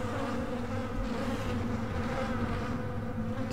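Buzzing flies swarm in the science-fiction survival horror game Dead Space, a steady, dense insect drone that holds at even loudness throughout with no talk over it.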